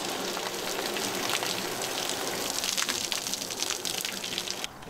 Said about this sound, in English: When you start rinsing, it's just this brown gray sludge water coming off